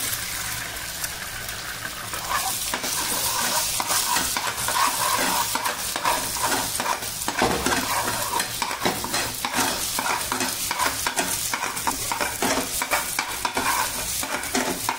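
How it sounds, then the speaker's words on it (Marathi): An egg fries in a pan with ginger and garlic for homemade noodles, a loud continuous sizzle with bursts of spluttering and occasional utensil clinks, up close and without speech. "त्यानंतर मी त्याच्यामध्ये एक अंड फोडून टाकते"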